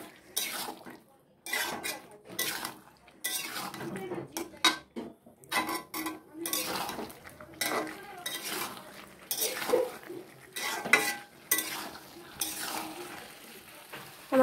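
Young jackfruit pieces being fried and stirred in a pan with spices, intermittent bursts of sizzling and spatula scraping against the metal pan with small clinks, separated by brief quiet gaps.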